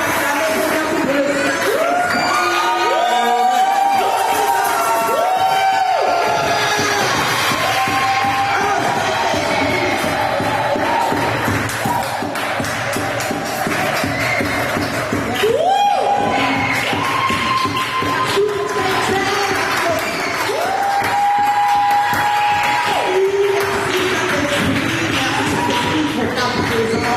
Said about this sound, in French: On peut applaudir pour mon fils Dave